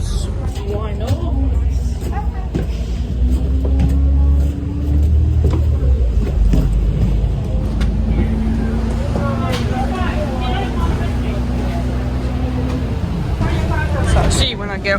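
A bus travelling between Romford and Barking rumbles and revs through traffic, its engine droning steadily from inside the vehicle, with stops and pull-aways.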